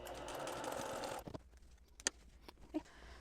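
A sewing machine runs in a steady whir while stitching quilt block pieces, then stops, leaving a few light clicks and handling sounds nearby.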